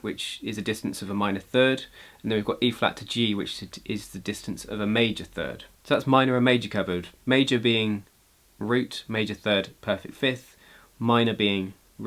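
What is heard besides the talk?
No distinct noise like a dog, phone or traffic.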